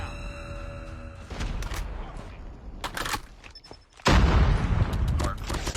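Rapid gunfire from a close-range weapon in the mobile shooter COD Mobile, sharp repeated shots in bursts that grow louder and denser toward the end, with dense in-game noise.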